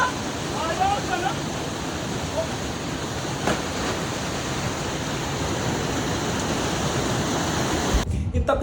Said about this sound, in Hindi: कैंपटी फॉल में सबसे फेमस जो वाटरफॉल है वो सबसे नीचे वाला है